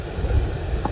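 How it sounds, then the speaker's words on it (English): Storm wind gusting across an open chase on the Heart of England Way early in the morning, a steady loud rumbling roar buffeting the microphone throughout. "Rather windy here on the chase."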